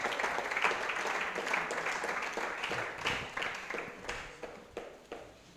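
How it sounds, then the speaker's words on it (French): Applause from a church congregation at a training session for pastors, a soft scattered patter of clapping that thins out toward the end into a few separate claps. "Si tu veux applaudir, il faut applaudir"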